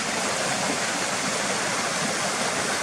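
A few small waterfalls on a burn, where the stream splits in a Y shape, give a steady, close rush of falling water with no break or voice.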